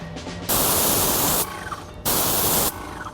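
A paint sprayer coats an edge behind a spray shield, giving two loud hissing bursts of spray, the first about a second long and the second shorter, separated by a brief quieter pause.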